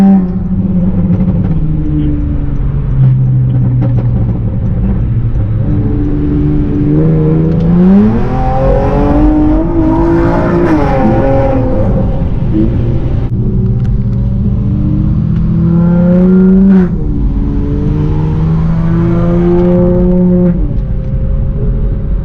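Honda CT2 V6 car pulling hard from inside, with deep loud engine drone climbing in pitch through gears, dropping at shifts, then rising again in a second pull.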